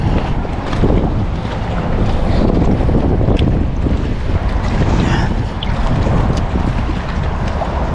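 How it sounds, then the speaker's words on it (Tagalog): Strong wind roars steadily and loudly, buffeting the microphone throughout, with a faint wash of water underneath. "Masyadong mahangin po ngayon."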